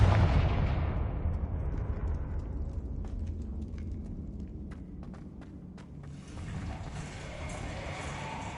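A Confringo blasting curse in Hogwarts Legacy bursts as a deep rumbling explosion that fades slowly. Scattered small crackles and pops follow, and then a low ambient swell.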